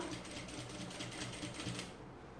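A sewing machine stitches pleats on a simple dress in a steady, rapid, even whir that runs close and fairly quiet without pause for a couple of seconds, then eases off.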